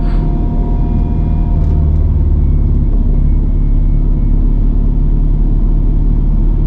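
Mercedes C55 AMG driving with a steady low engine rumble and road drone throughout, fairly loud and close, without talk.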